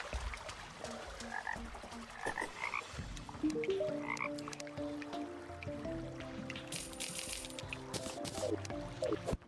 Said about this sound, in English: Oh, Mystic Frog.